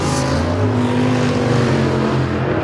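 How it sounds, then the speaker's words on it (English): Race car engine at a speedway season-opener main event, banging out and misfiring, a loud continuous rough drone filling the whole moment without talk. "You can hear the P52 car kind of banging out there."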